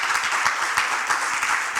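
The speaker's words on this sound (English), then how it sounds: "A big clap for Robert as well" A conference audience claps for a speaker after a talk on public sector project success, dense, steady applause from many hands with no pauses, filling the whole moment at a moderate, even level.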